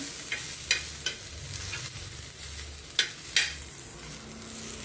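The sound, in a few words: tomatoes frying in a pan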